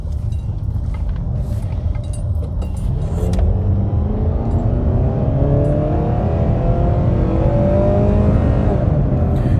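A 2010 Dodge Avenger R/T with nearly 200,000 miles revs hard in its lowest gear, the engine rising steadily toward redline, loud and close inside the car, with a few clinks early on.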